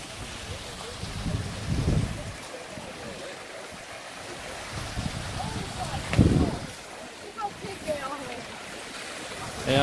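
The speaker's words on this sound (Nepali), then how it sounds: "यो माथि पेगोडा शैलीको उसबाट माथिबाट पानी झरेको छ" Water spilling down from a pagoda-style fountain at Tirta Gangga water garden in Bali: a steady, moderate splashing rush that runs beneath a person talking throughout.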